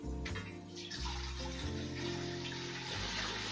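Water pours into a pot while lemongrass black tea is made over a fire in a village kitchen, a steady close splashing and filling sound with music playing underneath.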